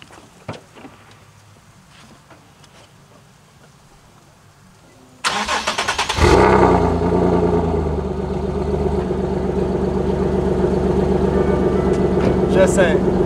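A boosted Nissan 370Z Nismo with a Tomei exhaust, already warm, fires up with a sharp burst and settles into a loud, steady, raspy idle close by, after a few seconds of quiet background noise.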